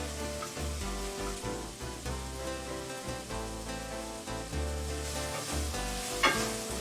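Onions frying and being stirred in a pan for a Moroccan-style beef with apricots dish, a steady close sizzle with scraping stir strokes, with music playing throughout and no talk.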